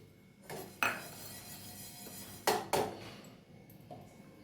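A metal pan is set on the stove to roast cumin for tamarind chutney, giving two or three sharp, close clanks and clinks against a quiet kitchen background.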